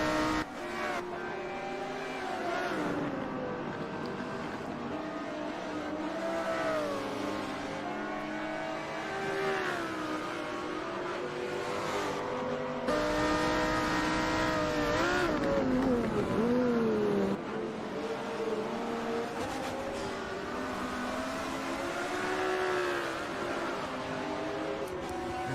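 Several GT race cars, including an Audi R8, lapping Silverstone in a racing video game, their engines whining and rising through the gears in overlapping sweeps, loud and continuous, with occasional tire noise.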